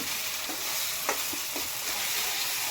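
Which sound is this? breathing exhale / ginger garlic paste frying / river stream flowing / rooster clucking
ginger garlic paste frying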